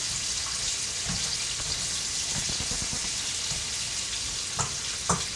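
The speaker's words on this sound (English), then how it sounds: "Yes, you hear that hot oil. We are definitely putting a crust on those potatoes." Potatoes crisping in hot oil for a green bean and potato curry give off a steady, close sizzle, with a couple of small pops toward the end.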